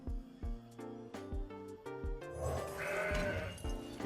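A goat bleat sound effect plays in the Legends of Runeterra card game, several short, repeated bleats in a rhythmic pattern, followed by a brighter swelling burst of game effects.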